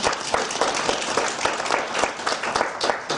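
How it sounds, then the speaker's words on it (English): A room full of people at a coaching talk applauds, the clapping close and continuous with a dense, even texture for the whole stretch. "Give him a round of applause."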